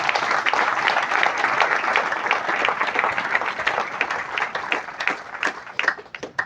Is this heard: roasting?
no